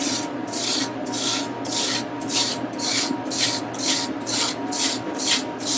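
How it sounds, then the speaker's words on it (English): A fork scraping a frozen homemade summer treat, about eleven regular rasping strokes in a steady back-and-forth rhythm, close and clear with no talking. "you take a fork and you simply"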